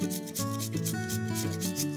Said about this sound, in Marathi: आता आपण ही काकडी किसून घेऊया।